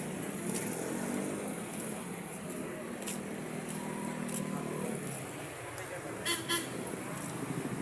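Continuous road traffic noise with passing vehicles and a couple of short horn toots toward the end, a voice faintly underneath.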